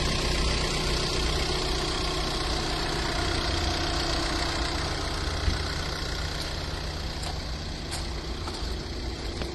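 The diesel engine of a 2016 Volkswagen Crafter refrigerated van idles nearby with a steady, low rumble and faint knocking, running evenly throughout with no voices.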